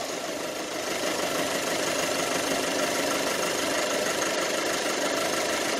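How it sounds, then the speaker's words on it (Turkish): A 2008 Ford Focus engine cranks and catches after an alternator repair, then settles into a steady, close idle with a slight knocking rattle, running alone without talk. "Marş yapıyoruz ustam."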